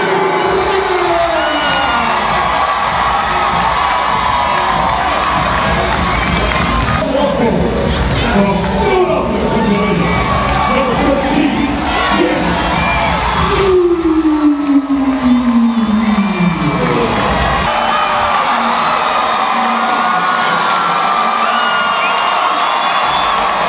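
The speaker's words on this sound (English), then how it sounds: "The Magnus crowd went wild for both the men" A crowd at a sports event cheers and shouts wildly, with whoops and children's voices rising over a dense, loud roar, while voices talk through it.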